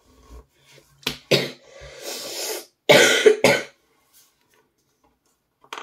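A person coughs a few times close to the mic, with harsh, breathy bursts in two clusters separated by quiet, along with a faint rub or scrape of handling.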